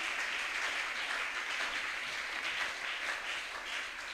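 Church congregation at a Pentecost service applauding, a dense, continuous wash of clapping from many hands that holds steady throughout.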